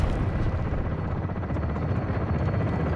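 A helicopter in Call of Duty Modern Warfare 2 thunders close and loud, its rotor chop pulsing steadily through a dense low rumble, with no voices.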